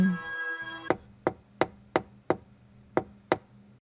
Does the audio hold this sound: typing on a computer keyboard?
no